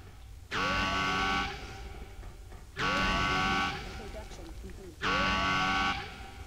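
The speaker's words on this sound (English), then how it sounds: "The turret defense is triggered an alarm." Turret defense alarm in a video game, a harsh buzzing tone that sounds three times in a steady cycle, each blast about a second long with a rising sweep beneath it, while someone talks over the gaps.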